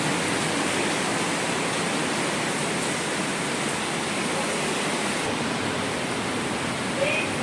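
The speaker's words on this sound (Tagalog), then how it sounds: "Sa bintana, nakikita ang ulan." Heavy rain with gusting wind pours down steadily outside a window, a dense, unbroken hiss that stays loud and even from start to finish.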